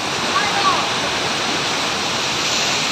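Kapandagan Falls in San Gabriel, La Union, roars as a steady, loud wash of falling water, constant throughout, with a faint brief voice-like trace near the start.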